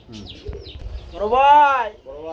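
Pigeons sold with cages at a farm give a soft throaty coo close by, one rising and falling call standing out, with a voice murmuring nearby.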